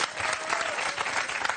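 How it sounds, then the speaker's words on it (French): Brief studio audience applause for an Olympic rower who placed fourth at London, a short burst of steady, close clapping lasting under two seconds. "On peut vraiment vous applaudir."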